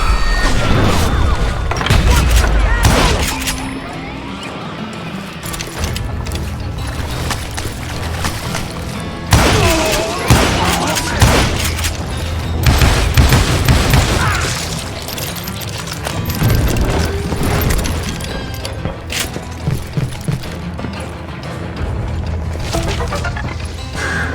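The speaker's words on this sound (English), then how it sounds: "It was then that a fusillade of bullets come raining down from on high." In the Western shooter Call of Juarez: Gunslinger, a fusillade of gunfire rains down from above: dense, continuous bursts of shots, booms and crashing impacts, loud and sustained throughout.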